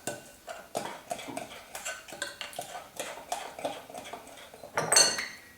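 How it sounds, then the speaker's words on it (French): A utensil stirs vegan quiche filling ingredients in a mixing bowl, giving a steady series of close clinking and scraping strokes against the bowl, ending with a louder clatter. "je verse les ingrédients les uns après les autres et je mélange dans mon saladier"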